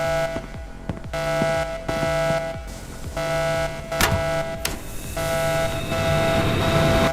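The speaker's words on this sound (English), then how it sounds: "I'll reset the smoke alarms. That is a loud one." A smoke alarm set off by a burning pizza in a home kitchen blares a loud, piercing electronic tone in repeated bursts with short gaps, alongside a few knocks and clatters.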